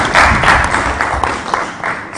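Audience applause at the 2022 presidential and vice presidential debate, steady clapping from a crowd for about two seconds with a little speech mixed in.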